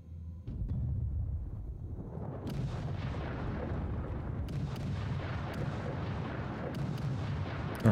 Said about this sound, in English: we launched a ferocious artillery bombardment, shelling it 4 times or 3 times